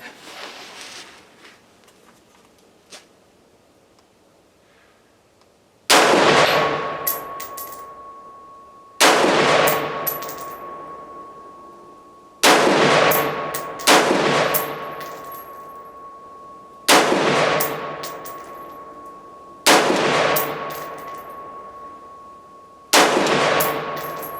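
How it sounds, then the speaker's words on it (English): An AR-15 rifle fires standard PPU 55 grain 5.56 ammunition: eight loud, sharp single shots at uneven intervals of a few seconds, each ringing out and decaying, with no voices. "So we're going to shoot the standard PPU 55 grain ammo out of it."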